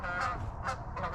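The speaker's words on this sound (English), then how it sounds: "The geese are back." Several loud goose honks in quick succession, nearby, with a steady rumble of a running GMC Sierra AT4 pickup truck underneath.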